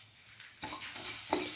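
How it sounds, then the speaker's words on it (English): Tomato pieces are stirred and tossed in a hot pan for an egg black pepper stir fry, giving a soft sizzle broken by a few scraping stirs, close and fairly quiet. "Put in the tomato pieces,"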